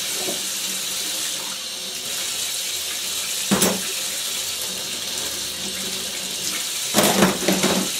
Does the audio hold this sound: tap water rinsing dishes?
yes